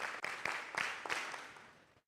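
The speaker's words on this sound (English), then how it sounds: "Let's give them a big clap." An audience at a Sabbath afternoon gathering claps in a short, soft burst with a few distinct louder claps, tapering off to silence.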